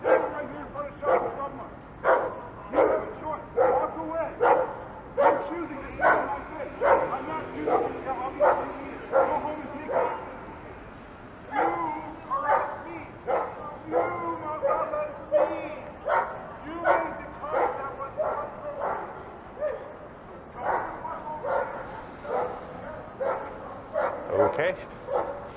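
German Shepherd barking repeatedly on a winter evening street, loud rhythmic barks in steady bursts throughout, with city background noise.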